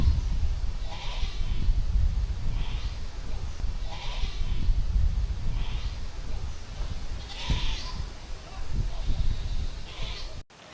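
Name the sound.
goats bleating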